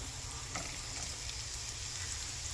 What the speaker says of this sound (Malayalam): ചൂടായി ജിഞ്ചറും കുറച്ച് കറി ലീവ്സും ഇട്ട് ഒന്ന് വഴറ്റുക.